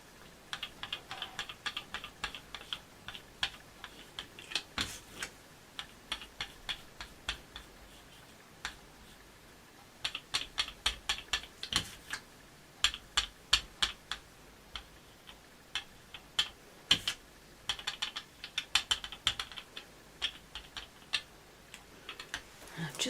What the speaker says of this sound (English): I'm preparing mine by rolling it on a mat first of all so I get a smooth layer